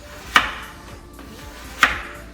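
Two sharp, separate knife strokes cutting through a watermelon, each a crisp, loud chop on a board with a short pause between them.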